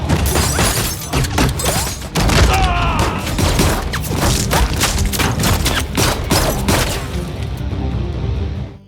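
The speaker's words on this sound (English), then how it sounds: "they suddenly hear gunshots coming from the warehouse" Rapid bursts of gunfire from a warehouse crackle in a dense, chaotic barrage with crashes and clatter, loud and close, trailing into a quieter stretch at the end.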